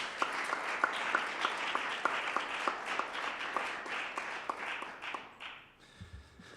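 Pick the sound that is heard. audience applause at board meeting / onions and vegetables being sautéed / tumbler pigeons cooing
audience applause at board meeting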